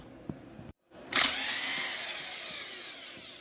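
A power tool, likely an impact gun or drill, removes bolts from a vehicle's rear end, starting with a brief tap and a pause, then a loud whirring spin that holds steadily and slowly winds down.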